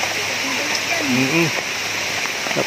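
Rain falls outdoors as a steady, even hiss of drops on surfaces, with people talking close by over it.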